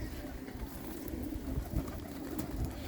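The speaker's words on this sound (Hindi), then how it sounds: "हफ्ते भर पुराने खुले हुए कबूतर हैं ये" Pigeons in a loft in Ballimaran, Old Delhi, birds released about a week earlier, give a steady low cooing murmur with soft rustling throughout, fairly close and continuous.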